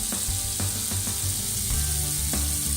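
A sofrito for a rice dish with anchovies fries in a pan, giving a constant close sizzle with a few sharp clicks and scrapes of a utensil and no talking.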